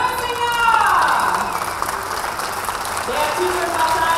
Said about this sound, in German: Der Titelverteidiger wird mit Applaus in der Arena begrüßt.